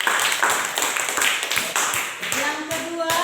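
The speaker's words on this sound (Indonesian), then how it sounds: "tepuk tangan untuk Reva" Classroom applause for a student named Reva: a burst of brisk, uneven clapping from several children close by, with a voice speaking and a sustained tone near the end.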